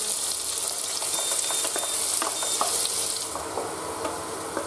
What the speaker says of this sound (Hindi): कढ़ाई में जब तेल अच्छे से गर्म हो जाए तब चॉप अनियंस को अच्छे से फ्राई कर लेंगे।